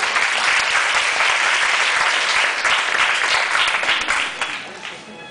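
Sustained audience applause at a school music competition award ceremony, dense steady clapping that fills the hall and then tapers off toward the end.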